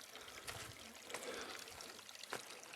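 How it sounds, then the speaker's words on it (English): Faint water trickling and pouring over rocks at Mitchell Falls, soft and continuous, with a few brief splashy surges. "Waterfalls, the water slowly flowing down."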